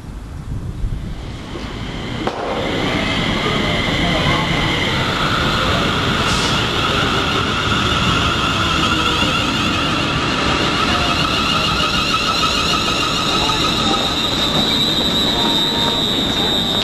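A passenger train runs on the rails near London Euston, giving a continuous loud rumble with high metallic squeal tones and wind-like noise that holds through the whole stretch after a brief quieter start.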